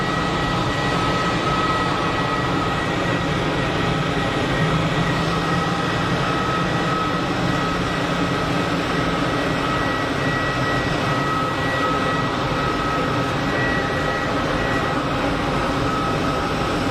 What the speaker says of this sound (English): Easy on the taxi over there with the Swiss Wookie fired up, anti-collision running.